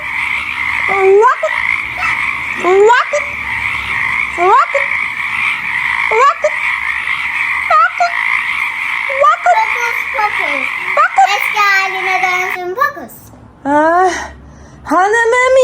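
A toy magic wand plays a loud electronic frog croak spell, repeated rising croaks in a steady rhythm over a continuous buzzing tone, with a brief change of sound near the end.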